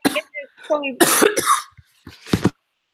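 A woman coughs during a live online talk: several harsh, close coughs and throat-clearing bursts come in quick succession, mixed with brief vocal sounds, before falling silent.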